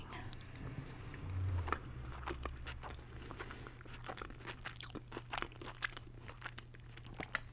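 Dumpling eaten during a sushi mukbang, with close, quiet crunching and soft wet chewing bites repeating over a low steady hum, no talking.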